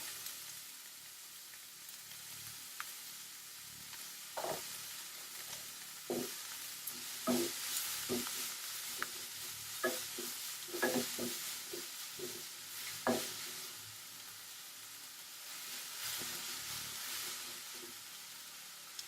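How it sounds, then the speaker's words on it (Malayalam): Chopped onions and green chillies sauté in a pan with a soft, steady sizzle, broken by repeated scraping clicks from stirring, without any voices. "സവാള ഒന്ന് നന്നായിട്ട് വഴറ്റിയെടുക്കാം"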